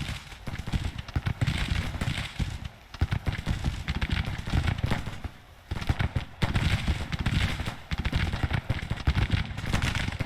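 Massed musket volleys ring out from troops in the Grand Tactician strategy game, a dense, continuous crackle of overlapping shots with a couple of brief lulls, steady and fairly loud.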